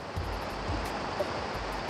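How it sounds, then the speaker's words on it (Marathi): Steady broadband roar of the Dhareshwar waterfall, a 200-foot milky cascade falling into the Karamdeli pool in Konkan, continuous and fairly loud with no other sounds over it. "दुधाच्या धारेसारखा हा धबधबा"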